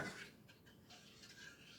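A spoon scrapes and clinks faintly against a cooking pot while pear preserves are stirred, a few soft metallic taps over quiet background.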